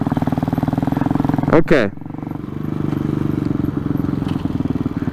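A 2020 RPS Hawk 250 Enduro motorcycle idles and runs on a road with a close, rapid pulsing engine note, briefly interrupted by a louder burst of wind or handling noise; a short spoken word appears.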